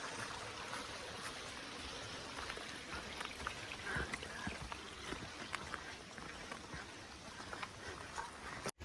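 A small waterfall splashes and rushes steadily nearby, a continuous bright wash of falling water with no voices.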